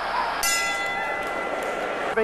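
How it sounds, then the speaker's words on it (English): A boxing round bell rings out sharply and sustains with a metallic tone, heard over a commentator's ongoing talk during a fight. "By the bell."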